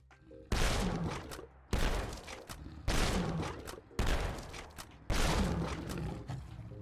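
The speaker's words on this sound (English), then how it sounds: "In exactly 6 shots, you can take down a Deathclaw with the Advanced Receiver and Slugs." Shotgun loaded with slugs and fitted with an advanced receiver blasting a Deathclaw in a video game: five loud, booming shots spaced about a second apart, each with a long roaring tail, with no talk.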